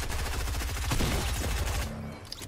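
Video game gunfire, a fast rattling stream of shots that is loud and continuous for nearly two seconds before breaking off, leaving a few scattered sounds.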